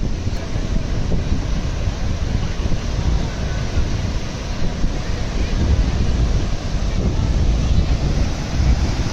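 Big ocean waves at the beach at Ganpatipule on the Konkan coast, heard as a loud, continuous surf roar mixed with buffeting wind noise on the microphone, with no clear breaks between swells.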